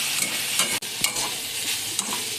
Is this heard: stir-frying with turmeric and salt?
yes